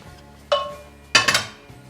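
Dishes clink twice in a home kitchen as fried chicken is moved into a dish to cool: a single bright ring, then a quick cluster of clattering knocks, close and clear with no talk.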